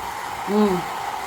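A hair dryer blowing on a pet gives a steady, close whooshing hum, broken briefly midway by a short vocal sound.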